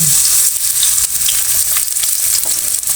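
Oil sizzling loudly in a hot pan while making a Punjabi-style roti pizza, a dense continuous frying hiss close up with faint stirring, no voices.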